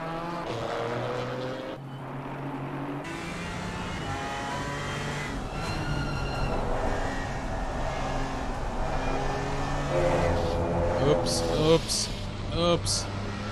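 A GT4 race car in a PC racing game at Zandvoort revs hard and erratically, its engine rising and falling under continuous commentary.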